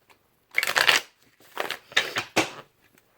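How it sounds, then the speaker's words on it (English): Someone gives a deck of tarot cards a quick shuffle. Four separate riffling bursts are heard up close, each a soft papery flutter with short quiet gaps between them. "we're going to do a quick shuffle here"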